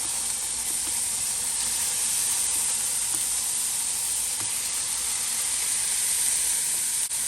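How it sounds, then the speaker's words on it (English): Steady, bright sizzling of hamburger patties frying in a hot pan, a continuous close hiss with faint crackles and no voices. "I love to hear that sizzle."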